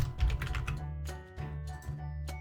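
Keystrokes on a computer keyboard enter column headings into an Excel spreadsheet. The taps come as quick, irregular clusters over a steady, tonal background drone.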